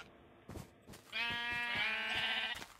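Sheep bleat in Minecraft, a black sheep among them, with a couple of soft footstep thumps and then a drawn-out wavering bleat that holds for over a second, fairly close and clear.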